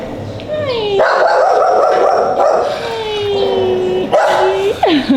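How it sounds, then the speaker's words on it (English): A small dog barks and yips close by in the Philippines, sharp excited barks mixed with high whining cries, while people talk over it. "They have a little dog."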